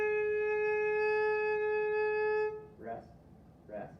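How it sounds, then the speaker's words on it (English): A saxophone whole note sustained evenly for four beats, clear and strong for about two and a half seconds, then stopping, followed by brief bits of speech. "That is where you hold out a note for 4 beats."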